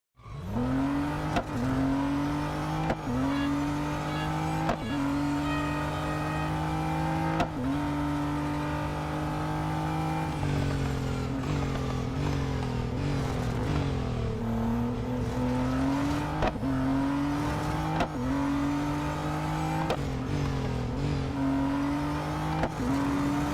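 A Ferrari race car in Real Racing 3 revs hard and continuously, engine pitch climbing and dropping through repeated gear changes and braking, loud and close with no talk over it.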